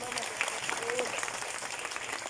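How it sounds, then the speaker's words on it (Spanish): A crowd applauds steadily at a political party presentation, dense clapping mixed with a murmur of voices and a brief tonal whistle-like sound. "un fuerte aplauso para Miguelito"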